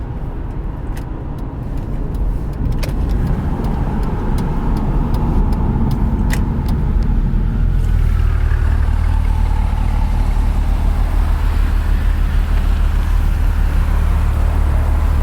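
A car drives near a Chevrolet C8 Corvette, its engine a steady low drone that deepens into a heavier, closer rumble partway through, with faint clicks early on and no voices.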